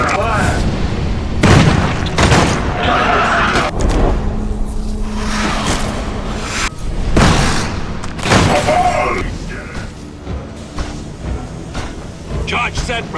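Heavy gunfire and booming explosions in the Space Hulk: Tactics video game, loud and continuous, with repeated blasts and bursts of fire over a dense rumble and voices speaking in the mix.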